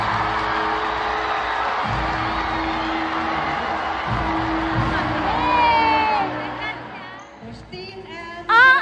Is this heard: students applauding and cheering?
yes